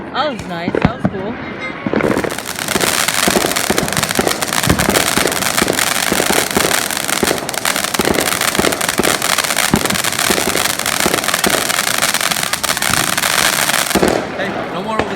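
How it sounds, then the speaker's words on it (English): Fourth of July fireworks erupt into a dense, continuous crackling barrage lasting most of the stretch, loud and close, after a few opening bangs and whistles, then fade toward the end; faint talking sits under the noise. "There's fireworks off in every direction, I swear."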